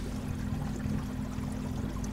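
Steady river water flows and pours in a continuous, even wash of sound, moderately loud and alone, with no voices.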